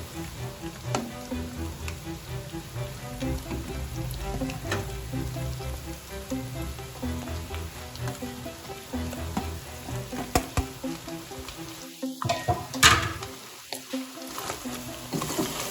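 Cabbage and capsicum stirred and fried in a pan for a chicken samosa filling, with steady sizzling, a spatula scraping and clinking throughout, and a few sharper knocks near the end.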